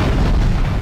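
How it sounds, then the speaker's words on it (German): Explosion in the Grand Theft Auto III video game, a loud dense roaring blast filling the whole short moment without any pause or voice. "Komm schon, explodier."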